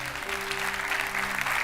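A church congregation applauds in praise of the Lord, with steady, dense clapping that fills the room and a low sustained tone running underneath.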